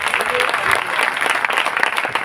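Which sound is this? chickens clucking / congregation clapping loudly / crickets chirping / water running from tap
congregation clapping loudly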